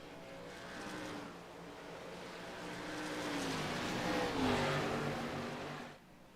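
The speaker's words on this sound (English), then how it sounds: "Jeffrey Pepper's still winning that damn race car" Race car engines roar at Gateway during an Inspired Cup Series race, loud and sustained, with pitch sweeping up and down through gear changes before cutting off sharply near the end.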